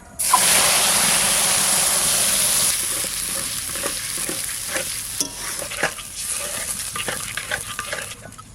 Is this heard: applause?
no